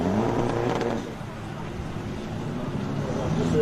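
A race car launches at the Simola Hillclimb, its engine revving loud and close, dipping briefly then building again under a faint commentator's voice.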